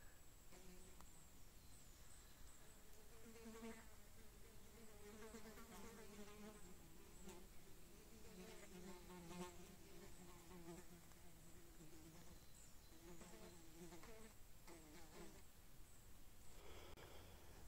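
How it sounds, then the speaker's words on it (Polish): Flies buzz near a death cap mushroom by a forest road, a steady, faint insect drone with drifting pitch that fills the whole stretch, with no talk over it. "A muchy do niego lecą jak do kupy"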